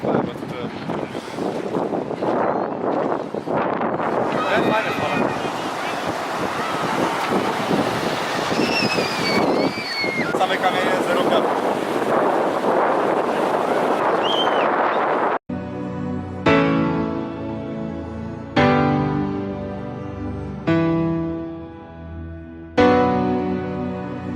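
Heavy wind buffeting the microphone, a loud continuous rumble that drops out midway, followed by a steady drone with repeated louder swells.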